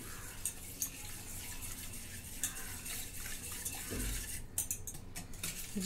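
Utensil scraping and clinking in a bowl while powdered sugar is stirred into chocolate cake batter, with irregular light taps over a soft steady backdrop, close, no talk.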